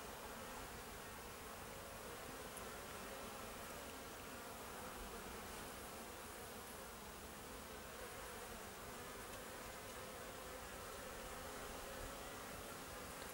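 Buckfast honeybees flying around apiary hives, a steady, dense buzzing drone that holds throughout at moderate level, with no talk over it.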